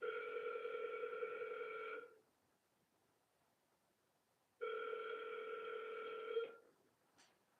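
A telephone ringback tone sounds during a cold call, two long steady rings about two seconds each separated by a pause of silence, clear and close.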